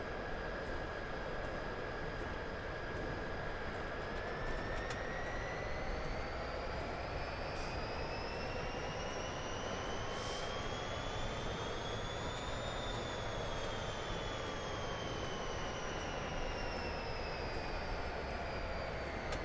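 A train in Train Simulator 2022 on the Chatham and Medway Valley lines, a steady loud engine drone with a slowly rising and falling whine holding continuously for the whole stretch, no talking.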